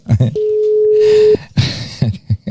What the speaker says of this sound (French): je sais pas si on entend la sonnerie ou pas, ouais on entend